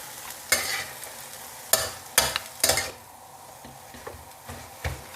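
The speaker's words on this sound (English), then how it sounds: "This is a trick how to add the seasoning on the wok, around the wok like this." Fish sauce poured around the rim of a hot wok during Thai fried rice stir-frying, giving a steady sizzle punctuated by several sharp, loud hissing flares and scraping stirs up close.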